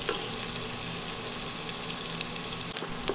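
Roughly chopped white onion frying in a pan, a continuous dense sizzle with occasional faint stirring clicks, close and steady.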